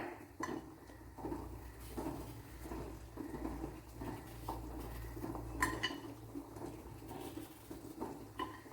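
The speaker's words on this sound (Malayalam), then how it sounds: "ഇതുപോലെ നല്ല നൈസായിട്ട് അരിഞ്ഞെടുക്കണം." Coconut being finely chopped with a knife on a board, quiet, irregular tapping and knocking strokes in close succession, faint against a low background, with no speech.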